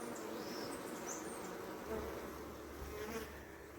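Honey bees buzzing at a bee yard while they fly in carrying pollen, a dense steady hum of many insects with a few louder passes near the microphone, no talking.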